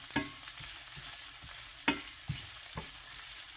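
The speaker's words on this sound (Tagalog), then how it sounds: "pwede na po natin dagdag ating bawang at luya. Gisa-gisa lang po, saglit." Garlic and ginger sauté in hot oil in a pan for adobong kangkong, a continuous close sizzle broken by several sharp scraping stirs of a utensil, with no voices.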